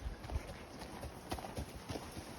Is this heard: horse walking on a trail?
yes